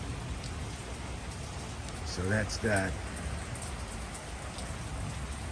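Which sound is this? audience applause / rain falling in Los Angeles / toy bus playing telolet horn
rain falling in Los Angeles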